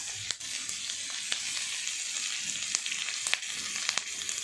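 Mixed vegetables for a soya chilli frying lightly in a pan, a quiet continuous sizzle broken by sharp scrapes and clicks of stirring.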